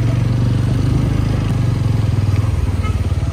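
A motorcycle engine runs steadily and close for the whole stretch, with a throbbing low rumble on a mountain road near Palanchok, and no talk over it.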